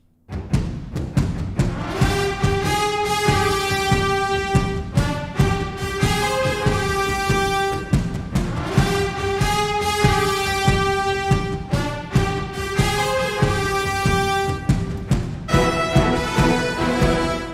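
Dense orchestral video game score with steady, layered percussion hits pounding throughout, brass and strings sustaining over the beat, loud and continuous with no talking.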